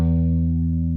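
Distorted electric guitar sustains a thick, steady chord from a riff, ringing loud and alone for about a second with no break in the tone.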